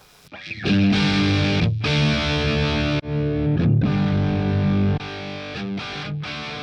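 Heavily distorted electric guitar chords through a Sonicake Pocket Master distortion effect ring out loud and sustained, with a few brief breaks between strummed phrases.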